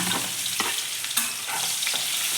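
Two onions, sliced lengthwise, fry in a pan for vangibath gojju. A steady, close sizzle runs throughout, with a few soft stirring scrapes and no talking.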